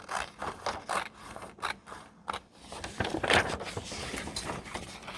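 Scissors cut through paper to trim out a 6-inch square tile, a run of close, crisp snipping and rustling strokes with no talk.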